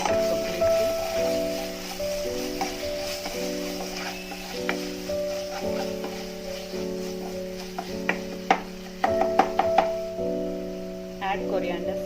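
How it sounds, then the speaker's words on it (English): Tomato rice with garam masala is stirred in a pan with soft scraping and scattered clicks of the spoon, under a steady musical tone and a person talking. "Now mix this completely."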